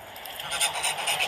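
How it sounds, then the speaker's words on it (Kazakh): Farmyard geese honk in a rapid run of nasal calls, fairly close and growing louder, with several birds overlapping. "Қаздар ма?"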